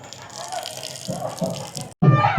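Water splashes and hisses across sun-baked temple ground during a chariot festival in Jaffna, a steady wash running for about two seconds before a short pause and a louder, closer burst.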